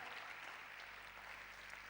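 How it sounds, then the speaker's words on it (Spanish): Congregation applause for the Lord during a Spanish-language church service, a faint, distant, even wash of many hands clapping without a break. "Le puedes dar un aplauso bien fuerte al Señor en el nombre de Jesús"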